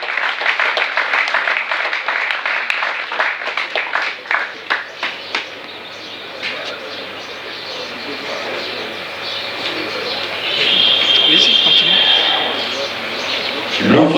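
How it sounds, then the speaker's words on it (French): An audience applauds Congolese scientists at a gathering, a burst of clapping that thins into scattered claps before fading into quieter room noise with voices and a brief birdlike sound. "je vous invite de applaudir très fort pour ces savants congolais"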